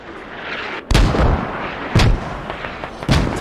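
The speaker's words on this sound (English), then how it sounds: "there you go, mortars" Mortar fire in a video game: three sharp, loud booming blasts, about a second apart, each trailing a short rumble, heard without talk.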